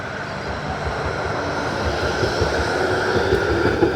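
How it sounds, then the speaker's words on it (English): A Melbourne tram passing nearby makes a steady, loud rumble with rail noise and a broad roar that swells slightly toward the end, with no voices. "Another tram already."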